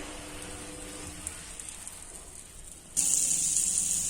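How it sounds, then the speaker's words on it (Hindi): Butter hissing as it melts in a hot pan for creamy corn and spinach, a steady, close sizzle that jumps louder and brighter near the end. "क्रीमी कॉर्न पालक के लिए पैन में हम सबसे पहले बटर डालते हैं।"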